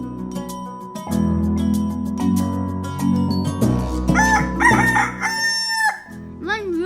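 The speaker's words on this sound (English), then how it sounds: "When rooster crows, cock-a-doodle-a-doo." A cartoonish rooster crow rings out near the end over a bright, busy children's song about farm animals, its rising call standing clear above the music.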